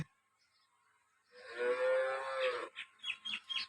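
Cows lowing in a village cattle yard in Rah, Tharad taluka, Banaskantha: one long, loud, drawn-out moo is followed by a quick series of shorter grunting calls, close by against a quiet background.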